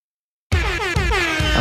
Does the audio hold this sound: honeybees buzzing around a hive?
no